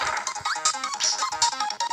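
Cutter power in Kirby: Nightmare in Dream Land, the boomerang attack thrown and coming back, with bright squeaky, chirping game effects in quick bursts that are loud and unaccompanied.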